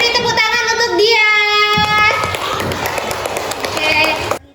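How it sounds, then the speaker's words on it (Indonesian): A children's class claps for a classmate, a brief burst of applause mixed with overlapping kids' voices and a sustained sung or chanted tone in a classroom. "beri tepuk tangan untuk dia"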